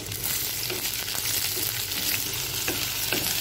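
Chopped onion sautéing in a pan for paneer kurma, a steady dense sizzle with soft scraping stirs breaking through now and then, close and continuous with no talking.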